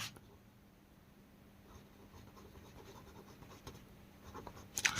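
Pen writing on paper during a Class 10 maths geometry lesson, a soft continuous scratching and rubbing that builds slightly, ending in a brief louder scrape, with no talk.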